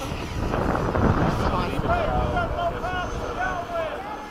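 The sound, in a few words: Freewing 90mm F-15 RC jet low pass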